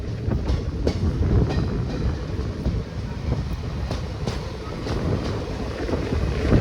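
The Nagercoil–Kottayam Express runs along the line with a steady heavy rumble, faint rhythmic wheel clatter and wind buffeting, close and continuous, with no voices.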